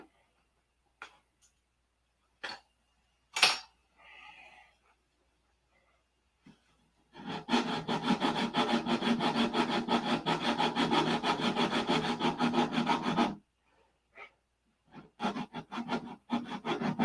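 A P-47 Razorback scale model is sanded by hand, a few scattered taps and clicks, then a sustained rapid back-and-forth rasping stroke for several seconds, close and crisp, with more short strokes after a pause.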